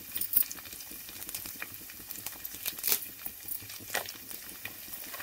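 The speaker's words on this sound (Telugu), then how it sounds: "తాలింపు గింజలు ఇలా యాడ్ చేసాము. తాలింపు అలా వేగుతుంది" Tempering seeds and dry red chillies frying in oil in a pan for a village-style dry fish roti pachadi, giving a faint, steady crackle with scattered small pops.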